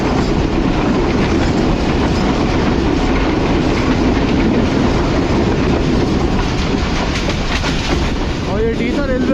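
Karachi Express passenger train running past Dhitha station near Hyderabad, a loud continuous rumble with steady clickety-clack of wheels over rail joints, close and constant throughout, with a brief squeal near the end.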